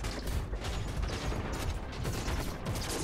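Spaceship cannons in the Star Citizen video game fire in a rapid, continuous mechanical rattle, loud and dense throughout with no speech.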